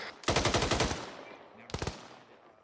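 Loud gunfire during a military field training exercise: a rapid burst of about a dozen close shots in a quick, even rhythm, a pause, then a second short burst of three or four shots. No one speaks.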